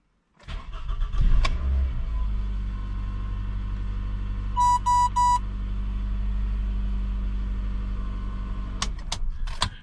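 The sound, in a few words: Toyota car engine starting with programmed key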